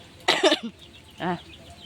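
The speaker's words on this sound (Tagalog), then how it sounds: "mag-ubo na naman ako." A person coughs twice in a rural hut while food cooks nearby: a sharp double cough, then a single softer cough a moment later, close and fairly loud.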